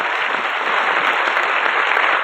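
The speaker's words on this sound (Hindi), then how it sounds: "एक बार अपने लिए जोरदार तालियां होनी चाहिए" Loud applause from a room of students at a coaching institute in Indore, a dense, even burst of clapping that holds steady at close range for a couple of seconds with no talk over it.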